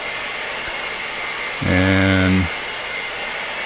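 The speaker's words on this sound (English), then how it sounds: "see if you can even hear me over the hair dryer" Hair dryer blowing on acrylic paint, a short loud whirring burst of a little under a second with a humming motor tone, set against quiet room noise and a brief spoken word.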